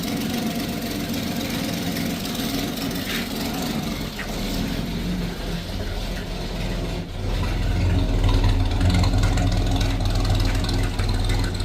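An old Ford XB Fairmont six-cylinder engine, a farm find left for decades, idling steadily with a rough low rumble and faint knock, close and loud throughout, growing slightly fuller partway through.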